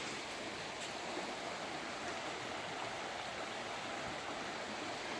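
A steady rush of flowing water fills the scene, a continuous even hiss of a stream or small waterfall, quiet and uninterrupted, with no voices.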